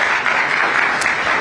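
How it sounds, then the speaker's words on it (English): Steady, dense applause from a conference audience at a stock exchange event, loud and sustained with no voices over it. "Big round of applause, please."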